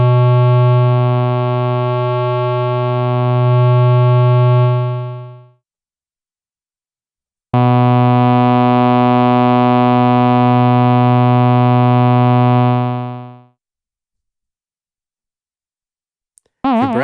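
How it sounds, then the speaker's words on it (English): Two sustained, buzzy tones from a Toybox FM Zone Synth with metallic, ring-modulated overtones, each lasting several seconds and separated by a brief silence, ending with a short click. "So let's just listen to ring mod,"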